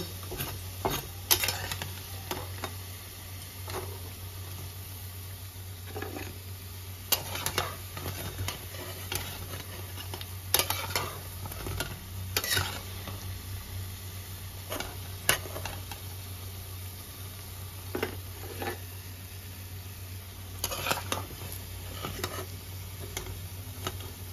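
Lentil fritters (bora) fry in a pan with a soft, steady sizzle, broken by scattered clicks and scrapes of a utensil, close up with no talk.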